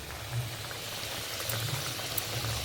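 Coconut milk pours into a simmering prawn malai curry, a steady close liquid pour over soft bubbling in the pan.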